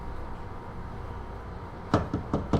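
Four sharp knocks on a door in the video game Alan Wake, closely spaced and fairly loud against a low ambient rumble.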